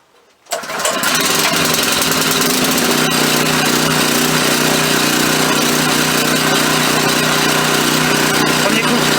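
A GeoTech LS12-50HG 12-ton log splitter's small petrol engine starts after a brief quiet moment, catching on the first pull and settling into a loud, steady running drone that fills the rest of the clip.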